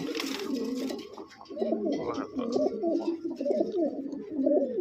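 Several pigeons coo close by in repeated soft, throaty rolling calls that overlap, with a little rustling and faint chirps around them.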